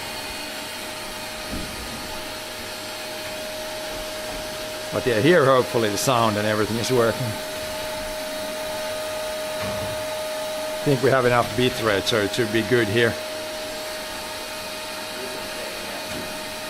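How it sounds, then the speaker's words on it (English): A vacuum cleaner drones steadily in the background at moderate level during grain dryer cleaning, while someone talks over it in two stretches. "The vacuum cleaner, it's not that loud"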